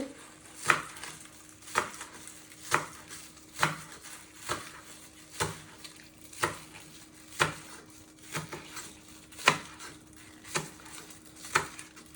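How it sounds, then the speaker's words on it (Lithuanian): Green onion leaves being sliced on a board with a knife, about a dozen crisp, evenly spaced chops about a second apart, close and clear, with no talking. "Pjaustau svogūnų laiškų, kad būtų gražu."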